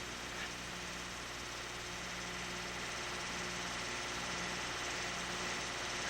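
A Massey Ferguson 2000 series tractor engine idles at low RPM, giving a steady, close, low mechanical hum with an even throb that holds unchanged throughout.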